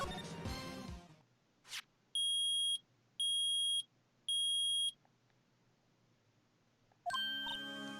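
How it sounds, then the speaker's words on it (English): Three loud, steady electronic beeps from a metal detector in a Phoenix Wright video game, evenly spaced with short gaps, between bursts of game sound effects. "The metal detector's found something. Sure is loud enough about it."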